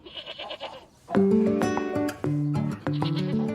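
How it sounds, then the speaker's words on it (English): Saanen goats, a high-milk dairy breed, bleat at the Great Yorkshire Show: a few soft calls, then loud, close, wavering bleats in quick succession. "Saanen goats, a breed known for high milk production."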